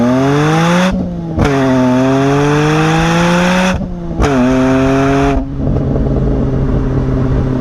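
A loud BMW M5 E39 engine revs hard and climbs through the gears, with brief drops between shifts, then settles into a steady throaty drone nearby.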